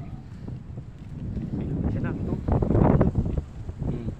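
Strong wind buffets the microphone by the sea on the Mindoro coast, a steady low roar that swells louder midway, with people talking over it.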